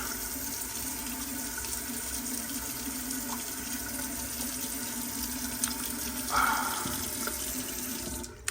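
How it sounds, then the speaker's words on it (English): Steady water running from a hotel room tap in Tokyo, a continuous hiss and splash with a brief stronger gush near the end. "You can drink the water from the tap"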